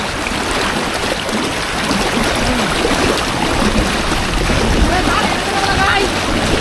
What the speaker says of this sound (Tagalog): Ayan yung current ng tubig.